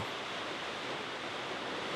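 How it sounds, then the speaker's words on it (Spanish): Catarata del Toro, a 90-metre waterfall plunging through Costa Rican jungle, gives a steady broadband rushing roar, soft and distant, with no voices. "una impresionante cascada se precipita 90 metros a través de la selva."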